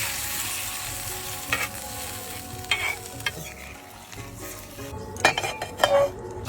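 Water poured into a pan of fried snakehead fish curry sets off a sizzle, followed by a metal spoon stirring and scraping the pan with a few sharp clinks, close and fairly quiet.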